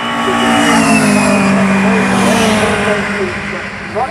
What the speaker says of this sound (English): And here comes Ted Pearson, still leading this race with just 2 minutes and 8 seconds.